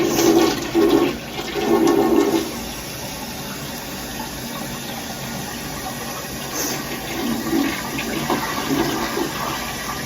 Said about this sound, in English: I'll flush it for you